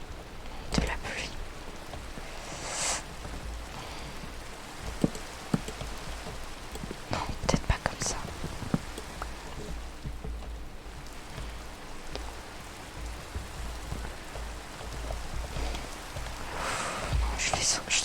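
Steady rain patters in the Minecraft video game as a continuous soft hiss with scattered sharper drops and clicks, while a voice speaks quietly over it.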